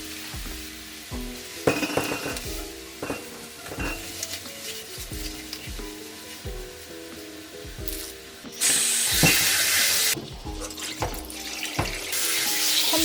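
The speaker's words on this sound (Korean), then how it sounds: "찬물에 하나씩 씻어주세요." Cold water splashes and runs in a sink while lemons are rubbed and turned under it one by one, with bursts of louder gushing toward the end.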